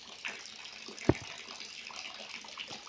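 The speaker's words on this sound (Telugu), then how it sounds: "నీళ్ళు వచ్చేసి కాలువలాగా వెళ్తున్నాయి" Rainwater rushes like a canal along the ground in front of a house during a village downpour, a continuous watery flow with one brief splash or knock standing out partway through.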